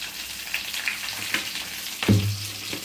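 Okra pieces dropped into a pan for bhindi bhaji give off a faint, steady sizzle, with a soft clatter and a louder thump near the end as more pieces land.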